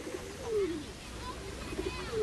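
Pigeons in a park coo softly in short, repeated low calls over a steady background hum of the outdoor setting, fairly faint and moderately close.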